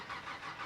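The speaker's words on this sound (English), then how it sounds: "it did sound very cool when it fired up on a cold start." An AC Cobra CSX3216 engine catches on a cold start and roars to life, loud and close, in a short burst of steady mechanical noise.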